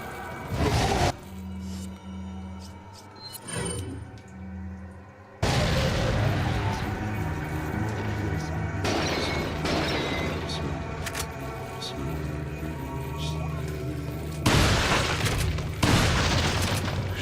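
Shotgun blasts in Resident Evil 4 on the GameCube, loud booming shots several seconds apart, with dense game noise and rumble between them.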